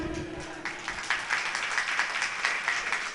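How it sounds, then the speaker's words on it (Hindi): An audience at a Jain religious discourse claps spontaneously, steady applause of many hands in a moderately near hall, with a brief voice at the very start. "ताली इन्होंने अपने आप बजाई है"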